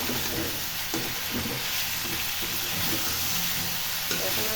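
Oil sizzles and fries steadily in a wok as biryani is cooked, a dense, continuous hiss heard close up with no talking.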